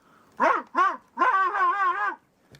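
A police dog vocalising in a few distinct bursts, a short yelp then a longer whining, howl-like cry, close and clear against quiet.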